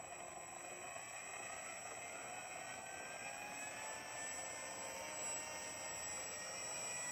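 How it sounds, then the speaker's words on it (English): Small FMS 800mm P-51 Mustang RC warbird electric motor spinning its propeller, a steady continuous whirring drone with a high whine that holds even throughout, close by with no talk. "Here is the throttle to get the blade moving."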